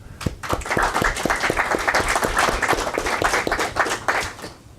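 An audience at a talk on recruitment and mobile development claps for two people, a brisk run of distinct hand claps that swells within a second, holds steady and then thins out toward the end.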